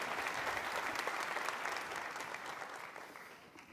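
A live audience applauds warmly to welcome a guest at a testimony gathering, thick steady clapping that gradually fades toward the end, no voices over it.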